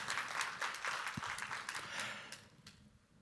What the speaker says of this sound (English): give our first keynote speaker a huge round of IBTM applause